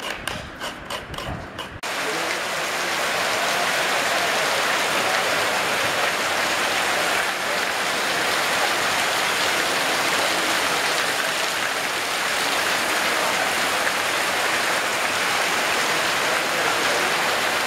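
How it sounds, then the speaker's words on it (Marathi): Heavy rain pours down in a steady, dense roar that holds unbroken for many seconds, loud and close, after a brief burst of rapid clicking at the start. "मस्त पाऊस पडतोय"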